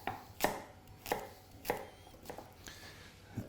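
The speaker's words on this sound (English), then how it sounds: "the carrots I'm just going to cut into bite-sized rounds" A knife cuts carrots into bite-sized rounds on a board, producing four or five sharp, distinct chops spaced roughly half a second apart, close and fairly quiet with no voices.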